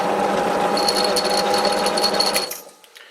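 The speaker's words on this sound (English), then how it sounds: "so now I have to drill a hole through here, and this is stainless" A drill bores a hole through a stainless steel piece being made into a metal surface scraper, giving a loud, rapid, rattling whir for about two and a half seconds before cutting off abruptly.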